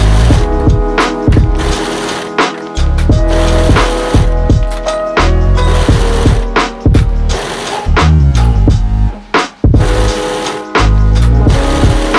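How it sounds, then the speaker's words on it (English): A serger sewing machine stitches several layers of fabric together, running in loud rapid bursts separated by brief pauses, with no talking. "now we're just going to go back to the serger and serge all of these layers together"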